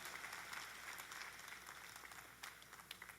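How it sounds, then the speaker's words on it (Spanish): A church congregation gives a round of applause for the Comunidad Kids team, a faint, distant patter of many hands clapping steadily for a few seconds. "¿Qué tal si le damos un fuerte aplauso al equipo?"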